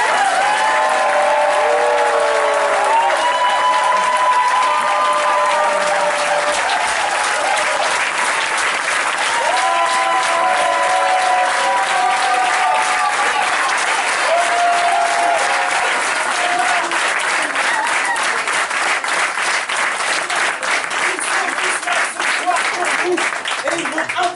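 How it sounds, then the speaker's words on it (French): Sustained, thunderous applause from a theatre audience greets improv students of a one-man-show school before an unrehearsed performance, steady and dense throughout with a few voices calling out over the clapping. "faire un tonnerre d'applaudissements aux étudiants de l'école du One Man Show"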